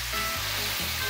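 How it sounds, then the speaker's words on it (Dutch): Tomato cubes frying in a pan, a loud continuous sizzle filling the whole short moment, with low tonal hum beneath. "Het is fantastisch aan het bakken."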